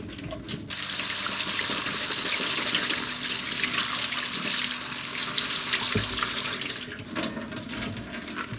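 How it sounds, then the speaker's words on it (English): A cold water tap runs steadily with a broad rushing hiss of water splashing into a sink, continuous throughout with slight shifts as beans are rinsed under it. "rinse them under the cold water tap"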